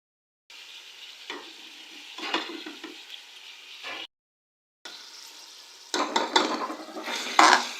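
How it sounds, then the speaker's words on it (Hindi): Spices are stirred into beef cooking with potatoes for aloo gosht, giving a close sizzle with scraping and clinking of a spoon against the pot, briefly cut to silence, then returning louder with busier stirring. "अच्छी तरह से मसालों को मिक्स करेंगे"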